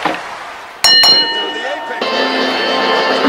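A wrestling ring bell is struck repeatedly after a pin at a live match, bright metallic clangs ringing over a loud crowd whose roar keeps swelling around them.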